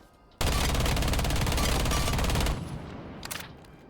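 The LS Scorpion gun in the video game Rainbow Six Siege firing a sustained rapid automatic burst, loud and close for about two seconds, then cutting off into a fading tail with a faint mechanical click afterward.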